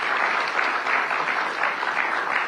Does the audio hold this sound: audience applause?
yes